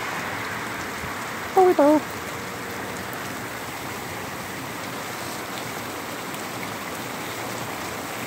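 Rain falls steadily outdoors, an even continuous hiss that runs the whole time, broken by a brief spoken word and a short chirp-like call near the start.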